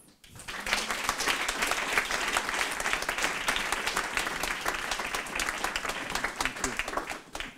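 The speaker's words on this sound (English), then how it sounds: "please all give a big round of applause for Tom" A seated audience at a storytelling talk applauds for Tom, a dense, even wash of many hands clapping that swells quickly and holds steady at full strength.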